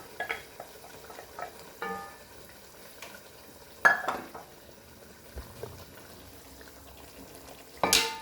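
Cooked chana dal being stirred into a mutton curry for dal gosht: wet, sloshing stirs in a pot with occasional clanks of the spoon against the rim, close and moderate in volume.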